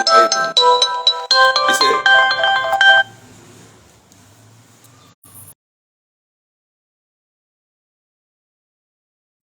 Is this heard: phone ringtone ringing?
yes